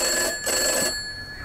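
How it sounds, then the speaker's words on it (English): A telephone rings in the horror video game Gray Dawn, a bright electronic trill heard loud and close, pausing briefly and then sounding again. "Where's the phone ringing from, though?"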